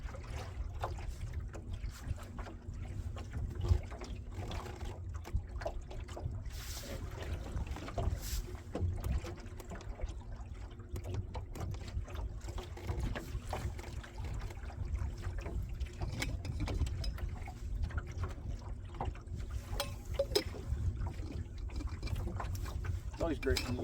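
Oars work a small boat through water with steady dipping and splashing, blended with wind buffeting the microphone.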